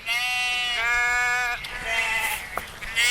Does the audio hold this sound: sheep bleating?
yes